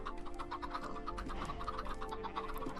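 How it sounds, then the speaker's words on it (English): A flock of Minecraft chickens clucks in a busy, overlapping patter of short repeated calls, close by and fairly steady throughout, with faint background game sounds and no talking. "Got a bunch of chickens."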